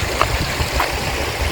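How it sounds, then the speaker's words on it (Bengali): Fast-moving river water rushes nearby in a steady, broad roar with small splashes, loud and continuous, no voices. "খরস্রোতা নদীর জল"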